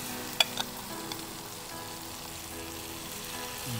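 Three pieces of chicken steak sizzle in a very hot pan with butter: a steady, close frying hiss with a few sharp crackles near the start.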